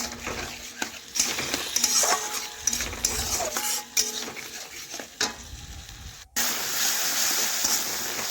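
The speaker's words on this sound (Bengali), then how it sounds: "এইভাবে নাড়াচাড়া করে একটু ভেজে নিতে হবে" Tomatoes and onions stirred and frying in a pan with mustard paste and cumin for a sour sea fish curry, with a steady close sizzle and scraping spatula strokes throughout and a brief break near the end.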